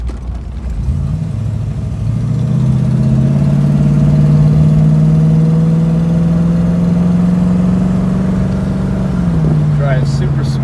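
A 1965 Ford Mustang convertible's engine hums steadily while driving and taking a turn, a continuous mid-pitched drone that swells slightly then eases near the end, heard from inside the car.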